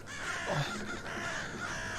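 A gull calls in a busy outdoor setting during a Korean tightrope-walking performance, giving a short harsh cry that sits in steady background noise.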